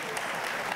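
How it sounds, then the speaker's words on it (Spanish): A brief, steady wash of audience applause at a talk in Zapallar fills the whole moment, close and even, with no voices over it. "Démosle un aplauso porque es una linda pregunta."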